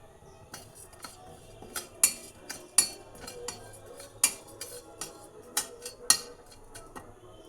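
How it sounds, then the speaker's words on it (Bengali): Whole panch phoron spice seeds rattle and clink against a metal pan as they dry roast, in irregular bursts, with sharper taps now and then, fairly quiet and close. "এবার এর মধ্যে একটু পাঁচফোড়ন ড্রাই রোস্ট করে নিচ্ছি"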